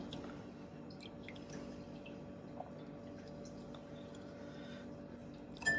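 Water drips and trickles off an LPS coral shaken over a reef dip bath, a soft, steady patter of small splashes close by and faint, with a slightly louder splash at the very end.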